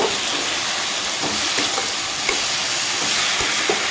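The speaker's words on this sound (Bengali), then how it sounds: "মশলার সাথে আমি সবজিটাকে ভালোভাবে কষে নেব" Vegetables stir-fry with spices in a pan, giving a loud, continuous sizzle with irregular scraping and knocking of the spatula against the pan, close up and with no voices.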